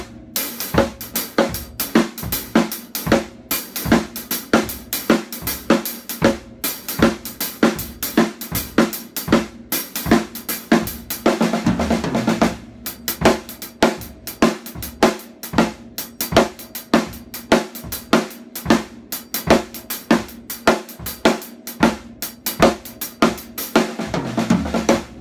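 A drum kit plays swung sixteenth notes with the hi-hat and both hands, keeping a steady groove. Fills and breaks come at regular intervals and the playing stays loud and close, with no talking.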